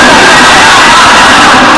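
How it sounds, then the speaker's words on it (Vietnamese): Live comedy-show audience cheering and shouting loudly as a crowd, a dense continuous roar throughout with no clear gaps. "Các bạn vỗ tay cái gì?"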